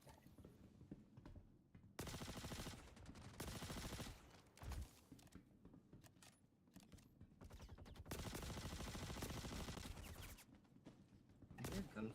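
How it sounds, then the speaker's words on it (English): Loud bursts of automatic gunfire in a multiplayer video game come in several long volleys separated by short pauses, with a voice talking faintly between them. "I hear gunfire."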